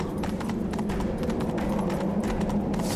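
Horse hooves galloping in The Witcher 3, a steady fast clip-clop rhythm close up and loud, continuous throughout with no talk.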